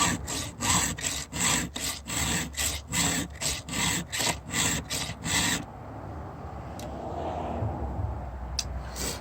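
Steady back-and-forth strokes of a Husqvarna hand file sharpening the teeth of a chainsaw chain, about a dozen rhythmic rasping passes close up, then stopping into quiet room noise.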